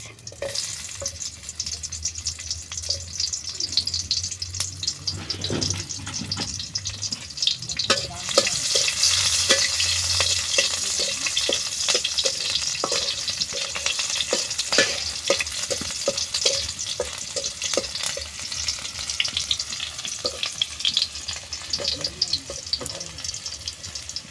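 Onions frying in oil in a pan, a loud continuous sizzle with frequent stirring scrapes and clicks close by, and a brief low hum early on.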